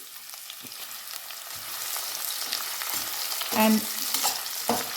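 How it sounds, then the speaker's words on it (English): Sliced red onion sizzles in a pan of hot oil, a steady hiss that builds slightly, with occasional stirring scrapes and a faint voice briefly near the end. "A cup of sliced onion goes in."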